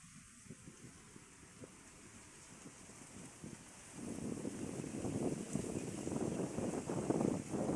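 Outdoor wind near the sea buffets the microphone in a low, rushing roar that swells noticeably louder halfway through, with no voices.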